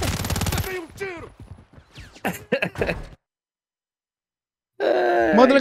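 A quick burst of rapid gunfire in Call of Duty: Warzone 3 opens, followed by grunting, strained vocal sounds, a silent gap, then a loud noisy burst.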